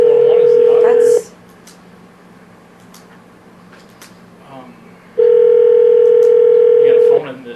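A landline telephone dial tone hums steadily in a county supervisors' boardroom, sounding loud and clear for about a second, breaking off into quiet room noise, then returning for two more seconds before cutting out.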